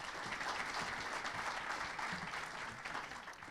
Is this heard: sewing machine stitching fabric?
no